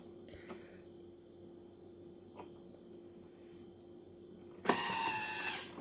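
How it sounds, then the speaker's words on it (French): A food processor blends melted butter into crêpe batter at speed 10. After a quiet, steady hum it starts abruptly near the end with a loud, even whir. "Je vais tout simplement mettre le couvercle et mixer 10 secondes vitesse 10."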